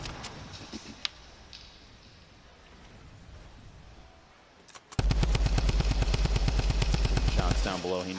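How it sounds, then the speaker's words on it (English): Gunfire in a Fortnite match: a few faint, scattered shots early on, then a loud, rapid burst of automatic fire with evenly spaced cracks lasting about three seconds, with commentators' voices underneath. "Shots down below"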